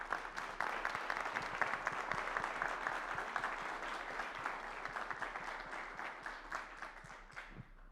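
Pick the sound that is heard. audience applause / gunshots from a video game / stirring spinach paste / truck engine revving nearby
audience applause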